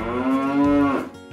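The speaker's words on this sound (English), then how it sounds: "What does a cow say? It says moo." A cow gives one long, loud, drawn-out moo that lasts about a second and trails off, with nothing else around it.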